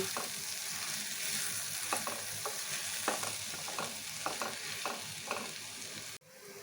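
A spoon stirs fish and mashed potato with spices in a sizzling pan, giving a steady hiss with repeated scraping strokes in an uneven rhythm, ending abruptly.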